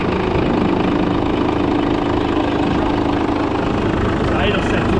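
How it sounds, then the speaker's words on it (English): A truck engine idles too low, around 600 rpm instead of 900, with a loud, steady, rough rumbling drone held close throughout and a faint voice underneath. "The idle set too low."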